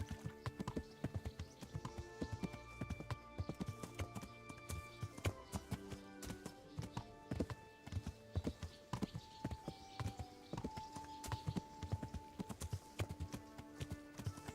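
Horse hooves clip-clop steadily in Kingdom Come: Deliverance, a rapid, continuous beat of a horse moving along under tonal background music, with an occasional whinny.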